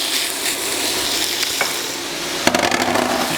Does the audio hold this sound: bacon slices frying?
yes